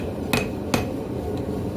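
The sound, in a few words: hammering a steel herb chopper flat on an anvil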